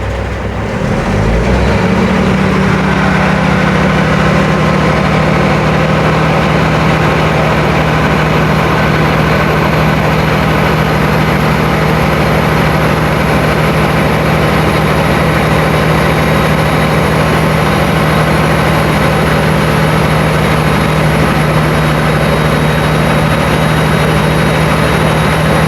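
A truck's diesel engine revving up and holding at high idle during an air compressor cutout check, starting with a startup thump and then a loud, steady drone with a sustained low hum for the whole stretch.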